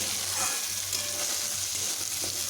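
Potatoes and onions frying in a pan with salt, a dense, steady close-up sizzle with faint stirring, unbroken for a couple of seconds.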